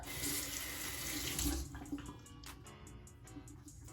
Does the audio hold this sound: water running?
yes